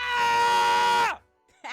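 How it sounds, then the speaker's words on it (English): A person lets out one long, loud, sustained scream that swells and then drops off abruptly, followed by a brief pause and a short vocal sound right after. "I'm gonna scream."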